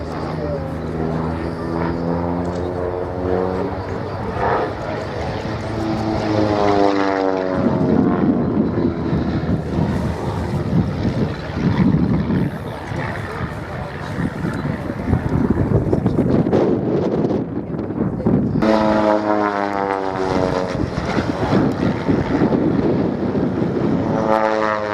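Pitts Special biplane flies an aerobatic display at Biggin Hill Airshow, its propeller engine droning and shifting pitch as it climbs, dives and passes, heard outdoors with heavy wind buffeting the microphone.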